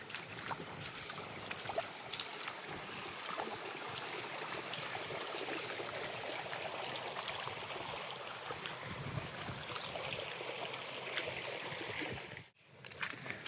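Water flows at a rural pond with a steady soft rushing and trickling, faint and continuous, with a brief dropout near the end.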